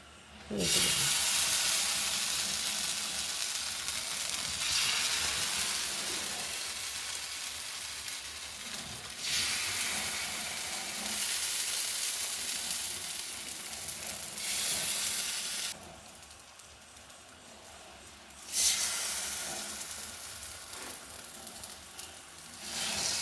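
Brinjal rotti fries on a hot griddle with a loud, continuous sizzle and hiss, swelling in bursts as the dough is pressed and turned, heard alone without talk.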